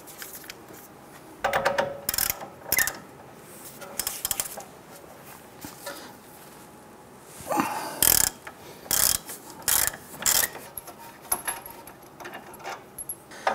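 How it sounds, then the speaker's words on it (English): A hand ratchet on a 21 mm socket works the outer tie rod nut on a 2002-2008 Dodge Ram 1500, giving bursts of rapid metallic clicks separated by pauses, close and clear with no talk. "I'm going to use a 21 millimeter socket. We're going to go ahead and remove our outer tie rod and nut."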